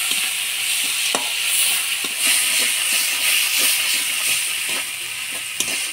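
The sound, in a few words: spice paste being sautéed in a pan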